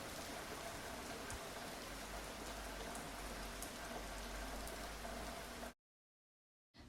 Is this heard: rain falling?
yes